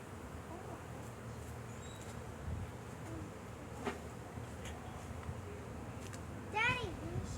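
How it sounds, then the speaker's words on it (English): A swarm of bees buzzes steadily outdoors close around a child, with faint insect drone throughout and a few brief louder passes, while a child and an adult talk quietly. "Why does bees keep on landing on me?"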